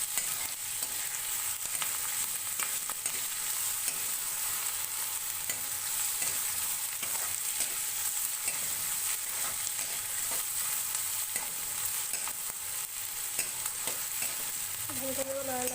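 Onions and other ingredients stir-fried in a pan for an onion chutney give a steady, close sizzle with stirring scrapes throughout, and no one talks.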